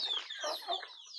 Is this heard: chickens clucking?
yes